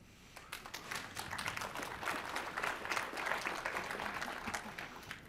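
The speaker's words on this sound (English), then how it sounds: "why do you make them clap?" A conference audience at a technical talk on ASP.NET Core security applauds, a steady, moderately distant patter of many hands clapping throughout with no speech over it.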